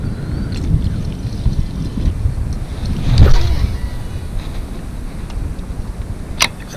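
Wind buffets the microphone in continuous low rumbling gusts, strongest midway, with a few faint clicks outdoors while bass fishing, and no speech.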